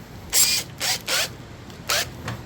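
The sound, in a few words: tightening drill chuck on Forstner bit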